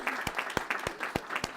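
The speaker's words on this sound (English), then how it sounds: "Let's give him a round of applause." Sparse applause from a small audience at a California Legislature ceremony, a handful of separate, fairly spaced claps sounding close and crisp, with no voices over them.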